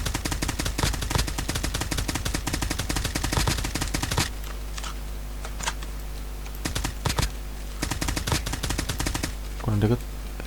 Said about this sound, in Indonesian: Ada yang nembak sih.